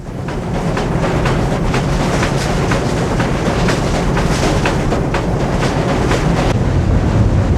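Union Pacific Challenger 3985 steam locomotive hauls a heavy train uphill on Cajon Pass, rumbling steadily, with a regular pulsing chuff and clatter repeating through a continuous roar.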